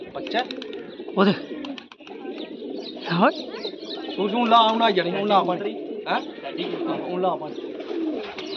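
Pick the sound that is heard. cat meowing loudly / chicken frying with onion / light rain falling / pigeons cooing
pigeons cooing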